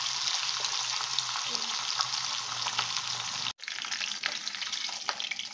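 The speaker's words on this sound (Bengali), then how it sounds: "আমি মাছগুলো গরম তেলে ছেড়ে দিলাম, দিয়ে এগুলোকে ভেজে দিলাম।" Hilsa fish heads fry in hot oil, giving a loud continuous sizzle up close with a brief sharp break midway before the crackling resumes, no talk over it.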